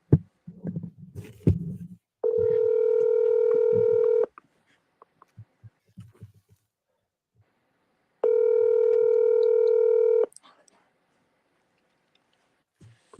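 Outgoing telephone call to an attorney's office ringing, two long, steady electronic ring tones a few seconds apart, loud and clear, with faint handling thumps before and between them.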